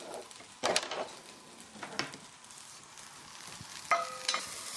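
Chopped tomatoes and carrots stirred in a pot with onion for lentil soup, a faint sizzle under a few sharp scrapes and clinks of a utensil, close but quiet and with no talking.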